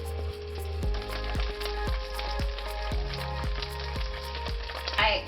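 A batch of shrimp fries in a hot pan, crowded in as many as will fit, producing a continuous close sizzle with faint regular ticks and pops throughout.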